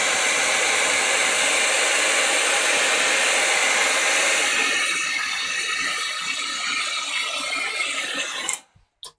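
Heat gun melting clear superfine embossing glaze, a loud steady whooshing blower roar that holds for about eight seconds before being switched off abruptly.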